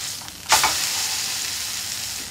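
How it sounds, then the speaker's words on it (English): Almond-encrusted tuna sears in a hot pan, a sudden loud sizzle bursting in as the fish is moved and then holding as a steady close hiss. "I'm just going to move it around to sear all the sides."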